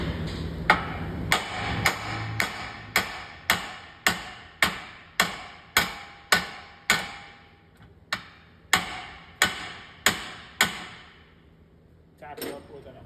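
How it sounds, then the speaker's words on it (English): A hammer taps a ball joint into a Nissan Rogue front lower control arm in a steady series of sharp, ringing metal blows, about a dozen in a row with one brief gap, close and alone. "Tap it up with a hammer until it's seated."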